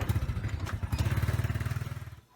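A motorcycle engine revs and pulls away nearby, its low, pulsing putter climbing briefly before cutting off abruptly at the end.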